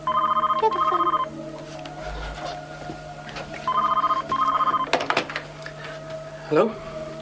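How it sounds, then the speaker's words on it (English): Old-style telephone bell ringing indoors in two long trilling bursts with a pause between, loud and close, while tense voices talk quietly underneath and a few knocks and clatters follow. "Get the phone."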